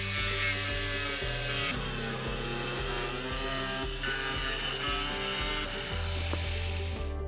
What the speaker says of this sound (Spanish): Manteniendo firmemente la amoladora o la sierra de calar con hoja de metal, cortamos la placa siguiendo la línea trazada con el rotulador.